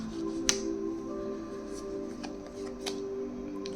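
Tarot cards drawn from a deck and handled, giving a few brief, crisp card snaps and slides over a soft steady background hum, close and fairly quiet.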